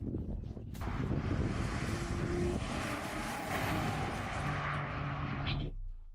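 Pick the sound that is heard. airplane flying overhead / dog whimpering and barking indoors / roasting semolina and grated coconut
airplane flying overhead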